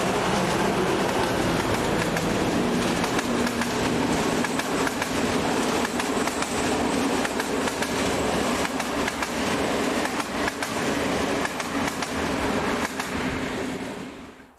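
M41 diesel locomotive, M41-2143 in original livery, hauling a passenger train for Budapest at Balaton-Rendes, Hungary: a steady, loud engine rumble and rolling rail noise with clattering wheels, continuous throughout and fading slightly at the end.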